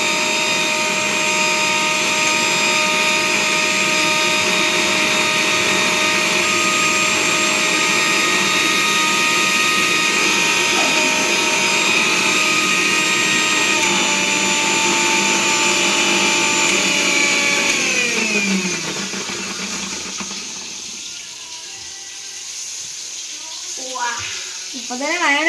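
An electric mixer whirs loud and steady while beating eggs into mayonnaise in a home kitchen, then winds down and stops near the end, leaving faint clinks.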